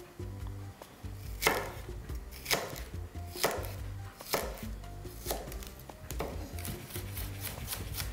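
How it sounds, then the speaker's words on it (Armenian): Chinese cabbage chopped with a knife on a board, about seven crisp sharp strikes at a fairly even pace, close and clear with no talking. "Պեկինյան կաղամբի սպիտակ մասից եմ կտրատում նաև խճողակի մեջ։"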